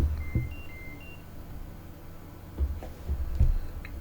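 Cockpit warning tone inside an F/A-18C in the DCS combat flight game: a few short high-pitched beeps early on, over a low steady hum with occasional dull thumps.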